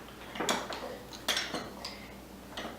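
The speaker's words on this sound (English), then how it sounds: "we're going to just use this back of the spoon to push this down" A spoon's back clinks and scrapes against a glass pint jar while pressing fresh cultured salsa down, several short knocks spaced through the moment, close and fairly quiet.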